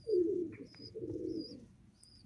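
Madrasi pigeons coo softly nearby in two low, rolling phrases, fairly faint and alone, with a few thin, high background chirps.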